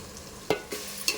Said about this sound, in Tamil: 4 பெரிய சைஸ் தக்காளி கட் பண்ணி வச்சுருந்தேன். அதுவும் ஆட் பண்ணி நம்ம நல்லா வதக்கிக்கலாம்.